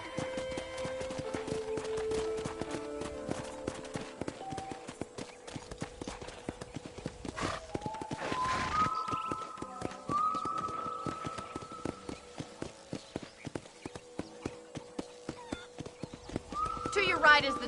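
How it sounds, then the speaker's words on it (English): Rapid hoofbeats clip-clop in a steady galloping rhythm in the video game Red Dead Redemption, with a horse whinnying partway through and again near the end, under some talking. "let's see if you can still ride a horse"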